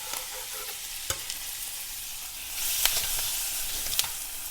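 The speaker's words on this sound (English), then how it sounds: "This is going now like high heat, and I'll stir fry this." Cabbage and garlic stir-frying in pork fat over high heat, a steady sizzling hiss broken by a few sharp clacks of a utensil against the pan, the hiss swelling louder partway through.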